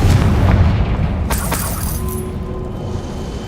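Confringo blasting spell explosion in the video game Hogwarts Legacy: a loud burst and boom up front, then a sharp crack around the middle, with rumble tailing off and no talk.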